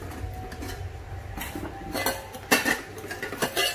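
A stainless steel Japanese hot-pot pot is handled, giving scattered metallic clinks and clanks of varying loudness, sharper and more frequent in the second half.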